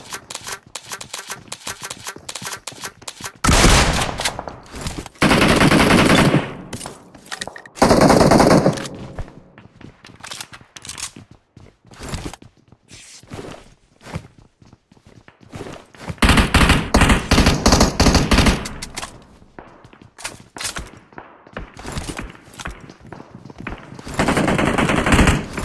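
Shotgun and automatic gunfire from the mobile battle-royale game PUBG Mobile, coming in loud dense bursts separated by quieter stretches of scattered single shots.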